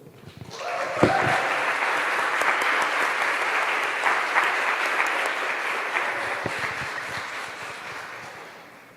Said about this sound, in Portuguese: dar uma salva de palmas para esse grupo de louvor